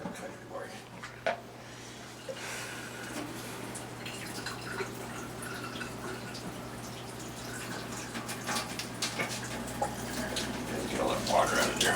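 Cooking water from homemade spaghetti drains through a strainer into a sink, a steady splashing pour that builds toward the end, with faint clatter and a low hum underneath.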